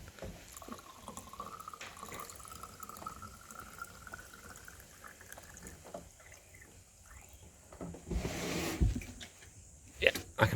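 Water trickles and gurgles into a tank on a Toyota Land Cruiser 100 Series nearby, with a rising fill tone and louder sloshing toward the end; soft talk occurs underneath.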